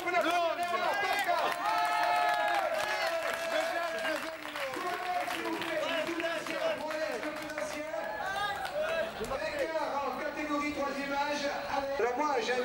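Applause and a busy, cheering crowd at an outdoor café waiters' race in Mazamet, a steady wash of clapping and voices mixed with talk and music over the whole stretch.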